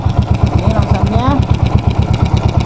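A motorcycle engine fitted with a PWK carburetor idles steadily after adjustment, a close, even low putter with quick regular pulses, while someone talks over it.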